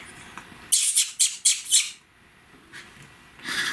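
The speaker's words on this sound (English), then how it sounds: "Oh, there are birds out the window." Birds squawk outside a window in a short run of four or five loud, harsh calls, then fall quiet before another call at the end, with no talking over them.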